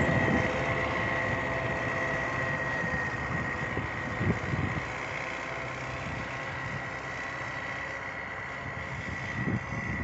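A Belarus MTZ-892 tractor with a KN38 cultivator idles steadily in a field before sunflower sowing, a constant low engine drone with a faint whine throughout and a few brief clunks.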